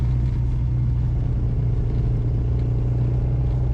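A restored classic Mini, with an engine compared against a 998, pulls up a steep gradient in third gear, giving a loud, steady low engine drone and road rumble heard from inside the car.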